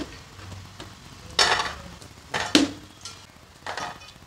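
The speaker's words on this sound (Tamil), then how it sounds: "இப்போல் நான் மீதி இருக்கிறதையும் பொறிச்சு எடுத்துடுறேன்" Rava balls deep-frying in oil make a low bubbling hiss, broken by a few louder bursts of clattering and scraping as the pieces are stirred or lifted out, with a faint metallic clink and no talking.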